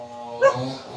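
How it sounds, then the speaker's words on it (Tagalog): Puppies give a short yip and whimper, one brief high bark rising over a soft whining hum, close and fairly loud, lasting about a second. "dami nilang tuta."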